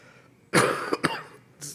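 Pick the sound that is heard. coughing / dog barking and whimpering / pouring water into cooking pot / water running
coughing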